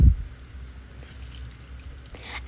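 Spoonfuls of ripe banana batter fry into fritters in hot oil, giving a soft, steady, low sizzle with a small splash at the start.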